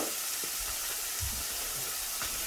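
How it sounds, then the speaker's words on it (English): Ham frying in a pan with pepper added, a constant close sizzle with occasional soft clinks and stirring knocks, no voices. "while I'm frying up my ham"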